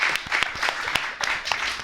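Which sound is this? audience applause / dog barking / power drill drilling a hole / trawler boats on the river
audience applause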